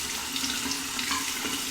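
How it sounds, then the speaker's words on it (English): Steady close rush of running tap water as a razor full of stubble is rinsed under it, constant and unbroken, with no talking. "Let's rinse it."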